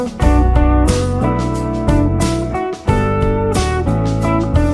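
An electric guitar picks steady eighth notes in all downstrokes over a full backing track with bass and drums, loud and dense, with no talking.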